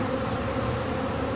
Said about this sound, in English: how the bees will go to the bucket